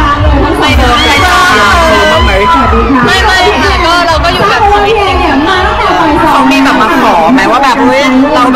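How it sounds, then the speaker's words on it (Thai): A large crowd of fans screams and cheers loudly in welcome, a dense, continuous roar of yells and voices that holds steady throughout without a break. "เสียงกรี๊ดดังๆต้อนรับพี่ลงอภิษฐ์"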